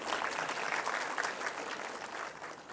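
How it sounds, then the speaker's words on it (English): An audience at a corporate CSR event claps for the head of the North region; a fairly soft, even wash of many hands clapping together that continues steadily without a break. "I can hear a bigger clap for 𝗙𝗵𝗲𝗵𝗵 because he's sitting in North region"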